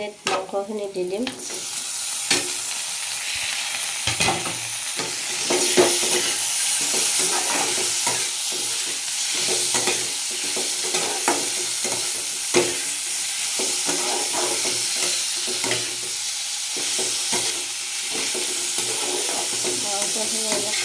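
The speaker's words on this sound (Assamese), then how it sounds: "এতিয়া মাংসটো ভাজি আছোঁ।" Pigeon meat fries with leaves in a hot pan and is stirred steadily, giving a dense, continuous sizzle broken by frequent spatula scrapes and knocks, close and fairly loud, with no talking.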